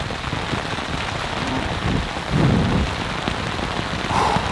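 Steady rain patters on a tent at a night campsite, a dense, close hiss of drops with occasional heavier bursts and a faint low rumble, no voices.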